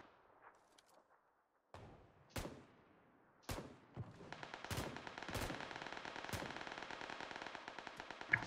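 Repeated bursts of gunfire from a scoped rifle in the PC video game PUBG PC Lite, starting with a few spaced single shots and then settling into a dense, steady stream of rapid shots that runs to the end.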